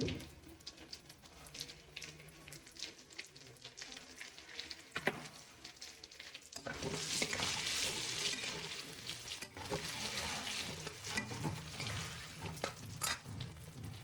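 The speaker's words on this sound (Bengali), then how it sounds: "আলুগুলো একটু ভালো করে ভেজে নেব।" Potatoes fry in a pan with turmeric for a Bengali cabbage ghonto with fish head. A low crackle starts quietly, then swells after midway into a louder, steady sizzle with scattered pops and no talk.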